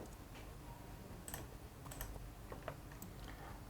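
Faint, sparse clicks of a computer keyboard as a username and password are typed in, with a few soft keystrokes over low room noise.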